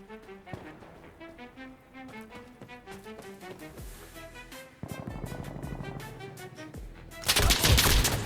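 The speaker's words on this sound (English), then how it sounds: "I don't know where I'm getting shot from." Rifle and automatic gunfire in the video game Insurgency Sandstorm: rapid rhythmic bursts of shots crackle throughout, growing denser and much louder in the final second.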